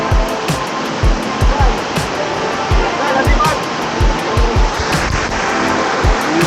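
A river rushes and gurgles steadily in the open air, a continuous broadband wash of flowing water with scattered low knocks and bumps mixed in.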